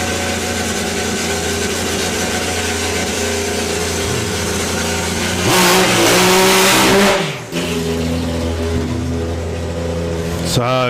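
A race car engine roars loudly past on the banking of a race track during a track day with race tyres, rising to a sustained near peak midway before a brief drop and continued revving drone.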